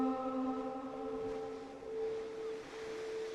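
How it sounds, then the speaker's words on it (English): Sirens wail in an audio drama scene, a steady, sustained tone with stacked harmonics holding level for several seconds at moderate volume, with no talk over it. "It was sirens."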